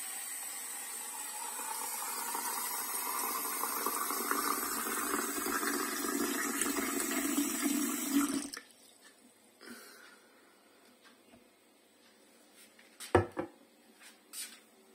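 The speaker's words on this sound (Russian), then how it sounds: "Наливаем полную банку воды." Water runs steadily into a glass jar for about eight seconds, the filling sound rising in pitch as the jar fills, then stops, followed by a few faint knocks and one sharp clink.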